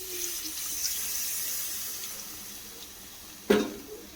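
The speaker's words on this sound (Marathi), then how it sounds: "आता मी टाकणार आहे पाणी" Water is poured into a pan of spicy brinjal curry, a soft, steady trickling that runs quietly for several seconds before a short, louder splash near the end.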